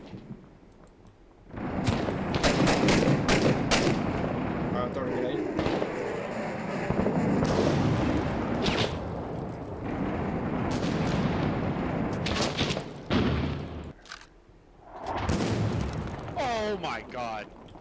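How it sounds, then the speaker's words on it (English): Incoming mortar fire in the video game Six Days in Fallujah, heard as a run of loud, rumbling explosions and blasts close together over several seconds, with voices in between. "The mortar's coming straight for us."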